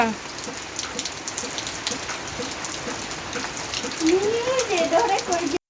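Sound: rain falling while ducks bathe

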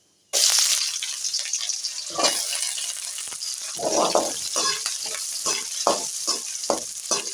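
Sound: frying onions in oil

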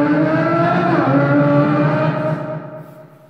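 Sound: child imitating a car sound

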